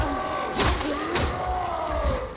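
Heavy, brutish shield-bearing Bulwark enemy from a co-op horde video game, heard as two loud slamming thuds with a bellowing groan and a gliding tonal sweep, close and alone.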